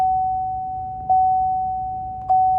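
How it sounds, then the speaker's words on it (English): Car seatbelt warning chime sounding inside a parked car: a steady clear electronic tone pulsing in two evenly spaced strikes, loud and close with no talk. "car's telling you that you're not wearing a seatbelt"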